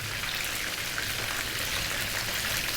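Homemade fish fingers deep frying in hot oil give a steady, dense sizzle and crackle that stays even throughout, close and alone.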